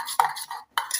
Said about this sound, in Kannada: ಮೊಸರು ಮಿಕ್ಸ್ ಮಾಡ್ಕೊಳ್ಳಿ